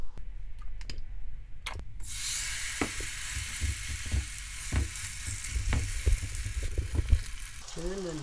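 A buckwheat kimchi pancake fries in a pan. A few light clicks give way to a steady, dense sizzle that runs on with scattered crackles.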